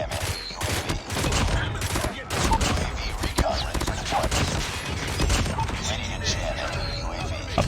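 A Renetti burst pistol, a legendary weapon in a video game, fires repeated rapid bursts of gunshots in dense, loud clusters over the game's background noise.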